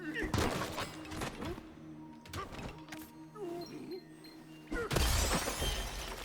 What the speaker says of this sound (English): Then the jail bars go kaboom.